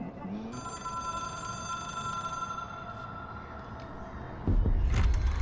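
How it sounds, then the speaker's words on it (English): The Hotline, a supernatural object-of-power phone in the Control video game, rings with a steady, bright bell tone at moderate volume before a low thump near the end. "It is a phone. It's an object of power. It doesn't connect to any typical network."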